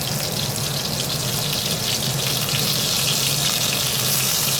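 Chapli kebabs bound with egg frying on a stove over high flame, a continuous loud, dense sizzle with a watery crackle throughout, close and unbroken.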